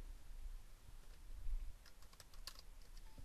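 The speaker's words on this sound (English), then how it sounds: "you can actually type in what you're looking for, hit enter" Quiet keystrokes on a computer keyboard typing a search query, a short burst of light clicks over faint room hum, without talk.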